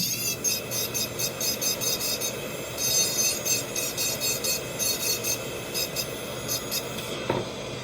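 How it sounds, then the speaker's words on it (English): A small rotary grinder buzzes in rapid repeated bursts against a workpiece, evening out symmetry, with a steady rasping hum underneath and a brief clunk near the end. "So I'm going to grind here more than wide open."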